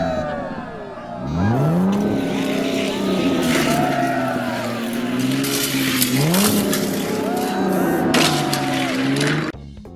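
Diecast toy cars, including a Renault and a Loop Coupe, race around a track with a loud, continuous rolling roar and rising and falling whine close by, then stop abruptly.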